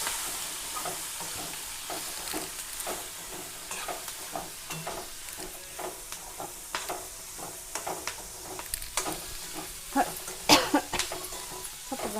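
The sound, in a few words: green chili curry frying and being stirred in a pan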